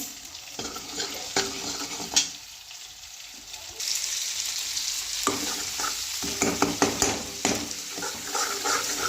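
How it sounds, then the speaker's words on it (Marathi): Homemade ground masala paste sautéing with marinated fish in a pan, sizzling and hissing with scraping stirs and clattering pan knocks, bursts of louder frying after the spatula moves, no voices. "आपलं वाटण टाकलेलं आहे. आपण छान परतून घेऊया."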